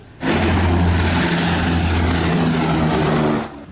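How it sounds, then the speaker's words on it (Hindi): Fighter planes flying near the China border in Uttarakhand's Uttarkashi district produce a loud, steady engine roar with a low hum that starts abruptly, holds for about three seconds, then cuts off. "लड़ाकू विमानों ने उत्तराखंड से लगी चीन सीमा पर उड़ान भरी।"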